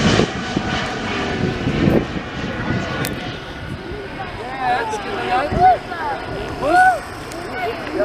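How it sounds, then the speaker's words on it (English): A fixed-wing airplane takes off at Montreal airport, its engine roar a broad, steady rumble throughout, with someone talking over it nearby. "before that plane took off"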